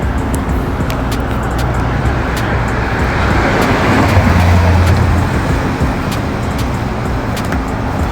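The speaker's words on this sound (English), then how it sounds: "It's a bus." A bus passes on a road at night, a steady broadband rumble of engine and tires with a low droning tone swelling midway, continuous and fairly close.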